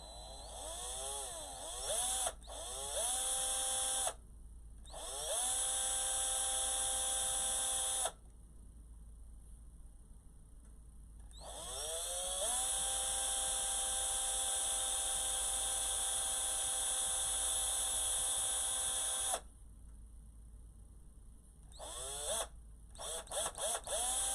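A power drill whines at high speed in several long bursts, stopping and restarting between runs, close and loud.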